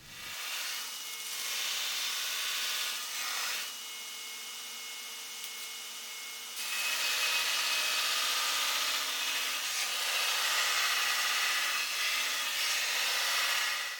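A grinder shaping a Nitro V steel chef's knife, a loud continuous abrasive rasp of steel against the belt that dips briefly and then grows harsher and louder as pressure increases, with no talk.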